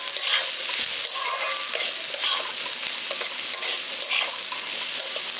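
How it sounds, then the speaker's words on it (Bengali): Ground turmeric and cumin stirred into frying food in a pan for dalia khichdi, a bright steady sizzle with repeated scraping strokes of the spoon, close and loud, with no one speaking. "গুঁড়ো মশলাগুলো দিয়ে ভালো করে মিশিয়ে দিয়েছি।"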